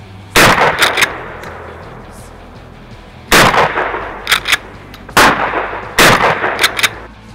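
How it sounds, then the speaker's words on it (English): A Mossberg 500 12-gauge pump shotgun with a 28-inch barrel fires loud, sharp blasts outdoors, each followed by quick metallic clacks of the pump action, repeating in four spaced shot-and-rack cycles. "You saw me blasting away with that 28-inch barrel in the beginning section of this movie"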